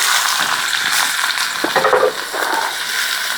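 Onions and curry leaves fry in oil for fish cutlets, a loud, close, steady hiss with crackles and a short stirring scrape partway through.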